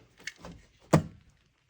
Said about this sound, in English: and then I'm going to staple it for extra measure